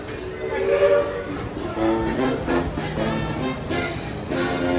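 A busy train platform with a steady rumbling background, a crowd murmuring, and horn-like tones sounding faintly through the noise.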